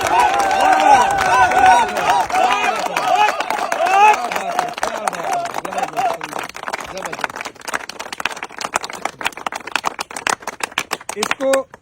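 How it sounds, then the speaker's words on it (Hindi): A large crowd of direct-selling networkers in Ayodhya claps loudly and rapidly for a team leader, sharp dense clapping growing stronger toward the end, under and after people talking over it. "ये पूरा हुजूम में तालियां बज रही हैं जोरदार तरीके से"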